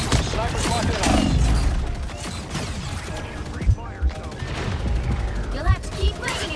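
Game gunfire from a team shooter match with sniper fire, dense bursts of shots and mechanical clatter running throughout under busy game audio, with a couple of sharper louder cracks standing out.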